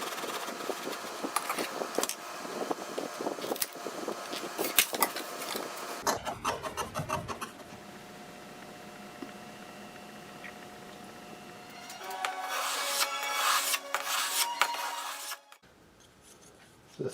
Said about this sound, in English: The three back braces are planed and chiseled down to roughly a triangular profile, a little flat right at the bottom edge.